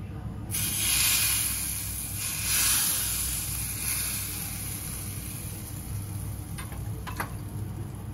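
Hot tempering poured over chutney while making crispy semolina (rava) vade, giving a steady loud hiss and sizzle that swells in the first seconds and keeps going alone.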